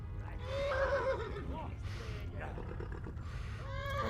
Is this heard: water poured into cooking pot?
no